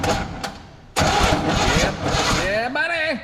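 A Chevy C20 truck engine, brought back after years in storage, cranks briefly and then catches and runs loudly up close, with its pitch rising as it revs while voices talk over it.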